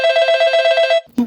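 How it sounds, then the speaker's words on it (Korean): Telephone ringing as a call is placed from a franchise clinic to Merz, a single bright trilling electronic ring lasting about a second, loud and close, followed by a brief click. "프랜차이즈 병원에서 멀츠로 전화를 겁니다"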